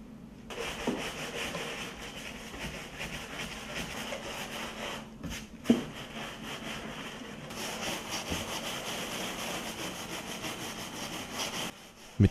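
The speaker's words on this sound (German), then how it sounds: "Nun kann das Glas mit Sägemehl geputzt und der Kitt entfernt und ausgebürstet werden." Leaded glass panes are scrubbed with sawdust and old putty brushed out, a steady close rasping and rubbing that continues throughout, broken by a couple of brief pauses and a few sharper knocks, with no talking.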